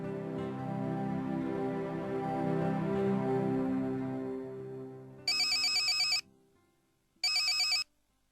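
A telephone rings in two sharp electronic bursts, each about a second long and separated by a short pause, loud and near, following a sustained tonal drone that fades away first; no one speaks.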